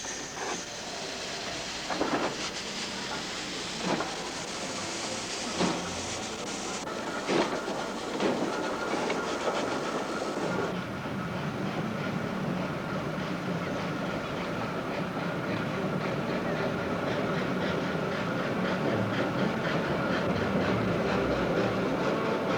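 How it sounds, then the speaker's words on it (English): A steam locomotive runs on rails. Scattered clanks and knocks at first settle into a steady, rolling rumble with a clickety-clack rhythm that grows slightly louder over time. "there was the rocket, built by George Stephenson and his son Robert"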